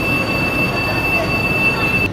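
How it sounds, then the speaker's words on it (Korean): Steady rumble inside a moving train, loud and close, with a thin high squeal of wheels on rails running throughout. "근데 지금 기차 타고 한 20분 왔나"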